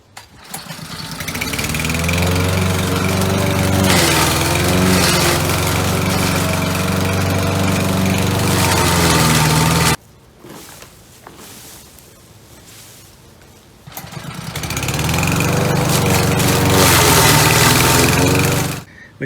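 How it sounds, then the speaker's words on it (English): Lawn mower running close and loud while mulching sweet potato vines, engine droning steadily, dropping away briefly for a few seconds before surging back to full power. "So what I'm going to do, I'm going to take a lawnmower to it."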